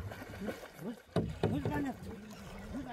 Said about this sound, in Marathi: छोटे छोटे पॅडलिंगचे स्ट्रोक देत लेफ्ट राईट पोझिशनमध्ये ही बोट पुढेही जाते